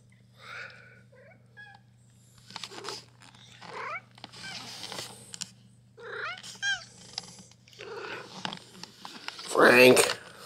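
A cat with a broken leg purrs close up and gives several short, rising meows. A soft human voice is heard between the sounds, and a louder burst of rustling comes near the end.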